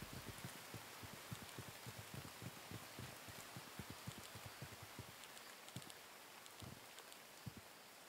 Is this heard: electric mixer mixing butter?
no